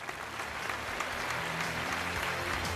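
An audience at a televised Chinese antiques appraisal show applauds, producing a dense, steady wash of clapping that stays even and continuous from start to finish.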